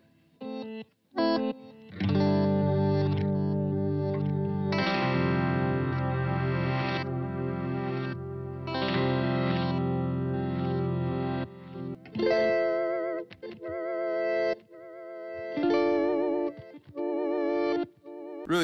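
A distorted electric guitar through a Helix reverse delay plays sustained chords and swelling notes with a backward, reversed-echo quality, loud and continuous, with short gaps between phrases.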